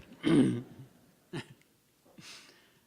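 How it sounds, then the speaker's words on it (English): A few short throaty coughs from an audience member in a quiet room, one sharp burst followed by two softer ones. "is there someone down here who's coughing so much"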